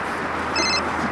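A mobile phone rings with an incoming spam call, a short electronic ring tone over steady loud background noise.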